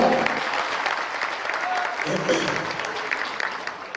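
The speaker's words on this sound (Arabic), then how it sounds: "تصفيق على لادمينستراسيون اربيع" An audience at a commercial training event claps in sustained, dense applause, moderately close and steady throughout.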